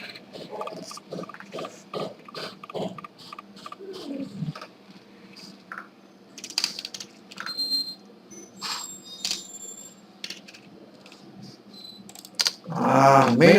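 Keys clatter on a computer keyboard in quick, uneven bursts during Python coding, close and fairly crisp, with pauses between runs and a louder rustling noise at the very end.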